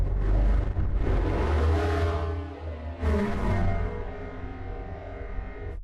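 A sample heavily mangled by the Freak Show Industries Dumpster Fire plugin in Bitwig: a dense, loud, distorted drone with heavy low rumble and gritty noise bursts, slowly shifting and swelling, then cutting off abruptly. No voices.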